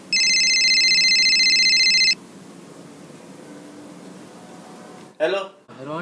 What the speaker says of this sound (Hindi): आधी रात को किसका आ गया फोन?